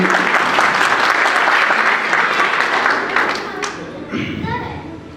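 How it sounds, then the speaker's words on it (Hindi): A crowd applauds loudly and steadily at a motivational speech event, then the clapping thins and fades over the last couple of seconds as a voice briefly comes through. "एक बार जोरदार ताली।"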